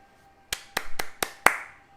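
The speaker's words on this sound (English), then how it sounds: "I applaud you for it" Five sharp hand claps in a short, slightly uneven series, close and crisp against a quiet room, with no talking.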